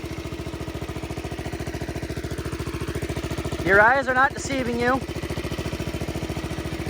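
An idling 1969 tractor engine thumps in a steady, fast mechanical rhythm, loud and close throughout, as someone talks briefly over it partway through.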